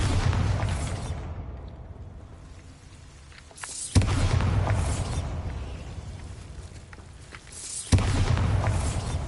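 Two Bombarda blasting spells go off in the video game Hogwarts Legacy, each a sudden sharp crack swelling into a long, rumbling boom, a few seconds apart.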